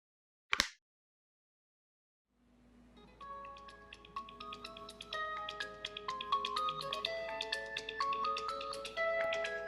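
A phone ringtone plays at midnight in a Pakistani drama scene, a bright, layered electronic melody of repeated tonal notes that starts after a sharp click and near-silence, rising and continuing steadily and fairly loud with no voices.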